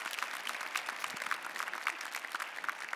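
Steady audience applause at a studio show, a dense even patter of many hands clapping, moderately close and continuous throughout with no voices over it.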